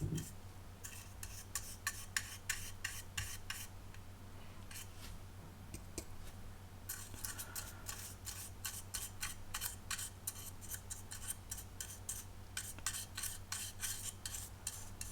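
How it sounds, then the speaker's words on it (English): Acrylic varnish is brushed onto a 1/35 Tamiya Panzerkampfwagen I Ausf. B plastic tank model, heard as many quick, faint scratchy brush strokes in uneven bursts over a low background hum, with no talking. "so we'll just brush paint that on"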